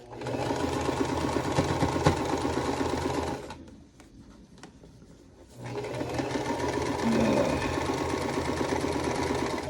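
Sewing machine stitching a vintage-style quilt block, a loud steady close whirring run that pauses briefly for a few seconds, then resumes at the same pace.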